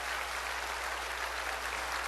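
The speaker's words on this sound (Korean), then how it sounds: "박수 칠려면 치고 말려면 말고." Church congregation applauding during a sermon, a steady dense wash of clapping from many hands that holds evenly throughout without a break.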